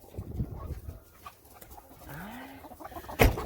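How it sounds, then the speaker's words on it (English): Chickens cluck inside a chicken house, with scattered soft clucks, a rising squawk and a sharp close knock near the end. "I'm going to make sure there's no chickens into the chicken house."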